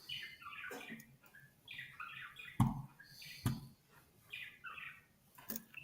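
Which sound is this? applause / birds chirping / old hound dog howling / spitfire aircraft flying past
birds chirping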